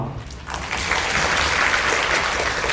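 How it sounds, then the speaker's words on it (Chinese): A hall audience at a Taiwanese youth working-holiday information session in Tainan breaks into applause, thin at first and then swelling into steady dense clapping that fills the room. "我们一起鼓掌好不好？"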